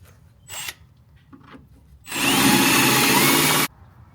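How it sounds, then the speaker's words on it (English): A drill bit bores through a part during a steering conversion on a 1967 Nova, with a brief buzzing burst early on, then a loud, sustained grinding run of about a second and a half that stops abruptly. "we can overcome the snag with a nice sized drill bit"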